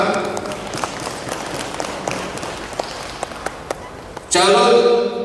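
A crowd applauds at a candidate nomination announcement for the N.16 Karambunai seat in the Sabah state election, with a brief patter of claps followed by a louder burst of clapping near the end.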